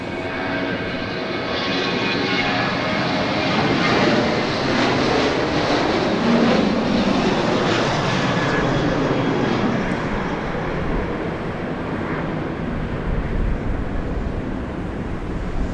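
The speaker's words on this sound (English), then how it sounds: "Flight 3728 off to Salt Lake City," A Boeing 737-700 airliner departs Dallas Love Field for Salt Lake City, its engines giving a loud, sustained broadband roar that holds steady and close throughout, with no talk over it.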